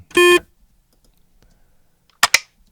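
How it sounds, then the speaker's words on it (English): A short synthetic button beep, a bright tonal blip heard alone near the start, followed later by a pair of sharp clicky bursts in otherwise near silence. "let's do the beep as an alt"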